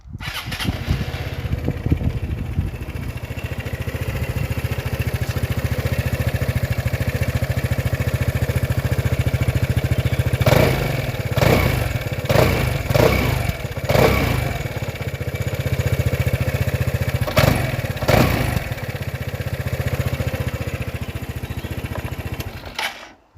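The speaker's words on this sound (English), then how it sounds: "So now we will do the recording of the original exhaust" An Aprilia SR Max 300 scooter engine with its original exhaust runs steadily at idle with a low buzzing exhaust note, then several quick throttle blips rev it up before it settles back.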